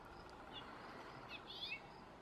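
A house finch gives a few short, simple chirps, faint and distant against a steady background hiss, with a brief pair of calls early on and a busier cluster in the second half.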